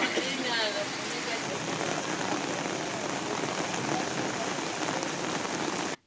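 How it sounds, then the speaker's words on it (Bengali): Heavy downpour in Purulia during a thunderstorm, a dense steady hiss of rain pounding surfaces that fills the whole clip at close range before cutting off abruptly at the end; no distinct thunderclap stands out. "পুরুলিয়ায় বজ্রবিদ্যুৎ সহ মুষলধারে বৃষ্টি"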